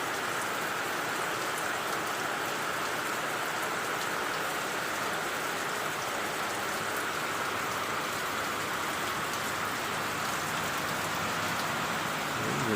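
Heavy typhoon rain pours down steadily outdoors near a mill and a pen of ducks and chickens, a dense, constant hiss of drops beating on surfaces with no voices over it.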